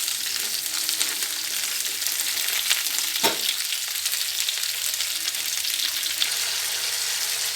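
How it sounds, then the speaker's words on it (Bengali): Ridge gourd and papaya sauté in a pan with a steady, bright sizzle. One sharp scrape or knock of a spatula cuts in near the middle, and no one speaks. "একটু হালকা করে কষিয়ে নেবো যাতে কাঁচা ভাবটা চলে যায়।"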